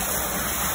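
A dense, steady rush of flowing water at the Panchakki water mill in Chhatrapati Sambhaji Nagar (Aurangabad), heard close and loud for under a second with no speech.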